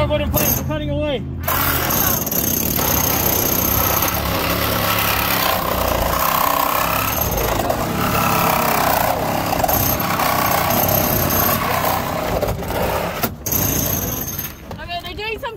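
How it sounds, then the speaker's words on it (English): Rescue saws cut into a car during technical rescue training, a loud continuous grinding and rattling whine right nearby, with crew members talking throughout. "they're doing some cutting right next to us"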